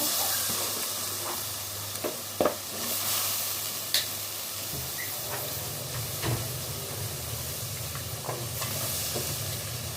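Tender greens stalks sizzle and hiss in a pan with shrimp while being stirred, with a continuous loud frying crackle broken by a few sharp utensil knocks.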